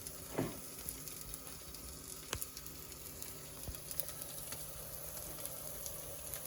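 Sweet potato and tuna patties frying in a pan, a steady close sizzle with a few faint pops and utensil taps.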